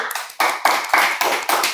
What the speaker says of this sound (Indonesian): Tepuk tangan dong buat Hanif.